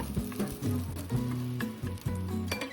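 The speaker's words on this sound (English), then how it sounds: "toss in the minced ginger. Let it sizzle till your kitchen smells like instant happiness" Minced ginger and green onion whites sizzle in a hot pan, a close, steady fry crackle broken by clinking strokes of a utensil against the pan.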